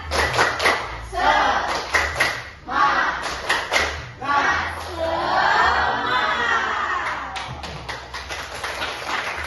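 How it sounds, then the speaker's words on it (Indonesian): A classroom of children performs a rhythmic spirit clap as an ice-breaker, with bursts of patterned claps alternating with shouted chanted responses, then a longer stretch of voices shouting together over clapping. "Kita ice breaking dulu, tepuk semangat"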